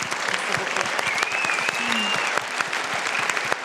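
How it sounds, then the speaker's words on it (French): An audience at a film premiere at the Cinémathèque suisse breaks into loud, sustained applause, a dense wash of clapping that holds steady throughout with faint crowd noise beneath. "je pense qu'on peut l'applaudir très fort"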